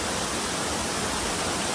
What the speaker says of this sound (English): So as you can see, we made it to the waterfall.